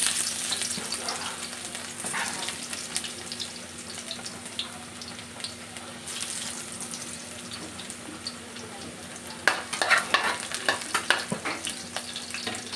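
Garlic sautéing in hot oil in a pan crackles with a steady, soft sizzle, and busier bursts of stirring and spattering come toward the end; no one speaks.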